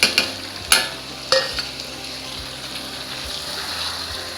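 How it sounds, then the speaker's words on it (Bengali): Spiced chicken stirred and sautéed in a pan for Mughlai chicken, a steady close sizzle broken by several sharp scrapes and clanks of a spoon against the pan in the first seconds. "আবারও একটু কষিয়ে নেব।"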